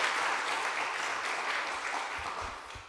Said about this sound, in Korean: 또 한 번 더 박수 한 번 더 부탁드리겠습니다